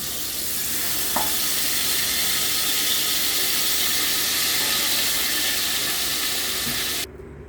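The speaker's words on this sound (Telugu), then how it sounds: "ముందుగా తీసుకున్న చికెన్ గ్రేవీని వేసుకుందాం." Chicken gravy going into a creamy white chicken biryani pot sets off a loud, continuous sizzle with faint stirring scrapes for about seven seconds, then cuts off abruptly.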